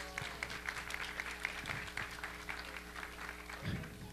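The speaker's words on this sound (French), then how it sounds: "Alexis, on l'applaudit, mesdames et messieurs." Scattered applause from an audience at a science festival talk on magnetic levitation, fairly faint and thin against a steady background hum, with a few sharper claps standing out and a brief louder thump near the end.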